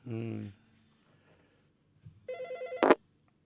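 Telephone ringing on a call-in religious radio program, a short electronic ring burst after a person speaks briefly, followed by a louder sharp tone.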